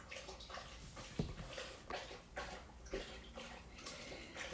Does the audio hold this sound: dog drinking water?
yes